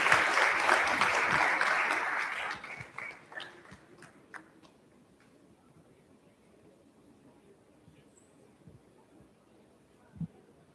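A burst of applause fades out over the first few seconds, leaving a quiet room with faint murmurs and a single soft thud near the end.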